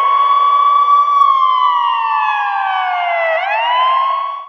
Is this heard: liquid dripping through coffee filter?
no